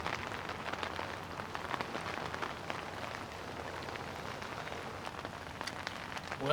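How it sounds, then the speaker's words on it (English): Heavy rain pours down on a river, a dense, steady hiss of countless drops spattering the water and surroundings, close and continuous with no talk. "every once in a while you get stuck in a downpour like we are right now"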